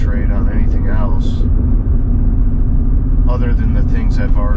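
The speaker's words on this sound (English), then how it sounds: "I'm so distracted with the AC compressor whine that it's a little hard to concentrate on anything else" A steady whine from the air-conditioning compressor of a BMW with a restored engine and suspension, heard while driving, sits under road and engine rumble as someone talks over it throughout.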